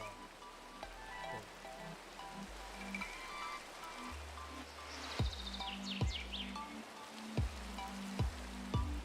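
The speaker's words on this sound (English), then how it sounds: "Hey, it's raining." Steady rain hiss from the Blockheads video game, a continuous soft patter with faint chirpy bird calls and a few low thumps in the later part.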